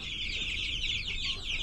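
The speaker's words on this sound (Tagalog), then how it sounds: "Ang darag kay pure jud siya nga native chicken." A darag native chicken clucking close by in a continuous run of clucks, with steady background noise and no talking.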